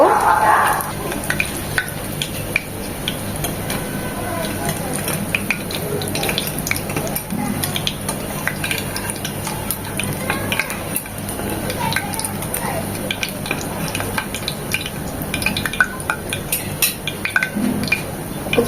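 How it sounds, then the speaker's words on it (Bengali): Fish roe fritters fry slowly in a pan, giving a steady, dense sizzle with occasional utensil clinks, close and continuous throughout. "পাঁচটাও তিন থেকে চার মিনিট এভাবে আস্তে আস্তে ভেজে লাল করে নেব"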